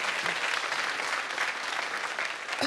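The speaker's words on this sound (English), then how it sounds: "So a big round of applause for all the men here today." An audience at an event celebrating women applauds, steady dense clapping filling the hall throughout with no breaks.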